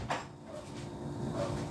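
Doors in a salon are pulled shut, giving a couple of soft thumps and a light cabinet-like knock over low room noise.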